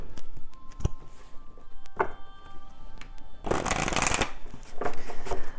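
Oracle cards are shuffled in short papery riffles and flicks, with scattered taps first and then a long, loud burst of rapid shuffling, all close by and with no voice.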